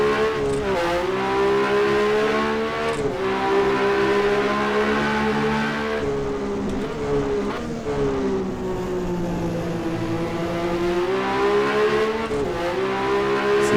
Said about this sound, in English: just little taps on the accelerator as we downshift